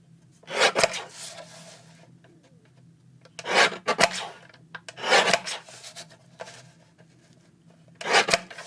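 Card paper being trimmed to size, heard as four separate rasping, scraping strokes at close range, each lasting about a second, with quiet gaps between them.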